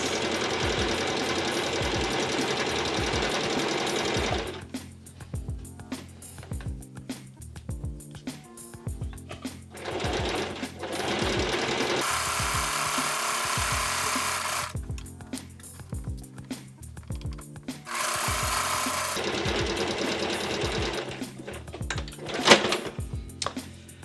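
A sewing machine run by foot pedal stitches a tote bag in repeated bursts of steady rapid whirring, separated by pauses with softer handling clatter, loud and close with no talk.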